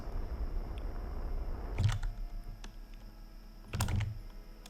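Two brief keyboard key presses during a Kerbal Space Program session, cutting throttle with the X key; the clicks are soft, close and separated by about two seconds over low background noise.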